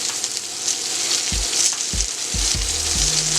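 Chicken wings sizzle steadily on a Steelmadeusa steel griddle, a loud continuous frying hiss with a few low thuds from handling partway through, no voices.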